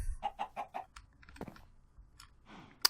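Chickens clucking in Minecraft Sky Factory 3, a quick run of four or five close, faint clucks followed by scattered clicks and a sharp click at the end, with no talk.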